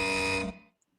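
A single loud, harsh electronic game show buzzer blares for about half a second, then cuts off and decays into near silence.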